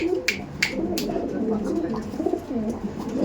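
Mangalagiri pigeons cooing in a low, rolling murmur, continuous and close, with a few sharp clicks early on.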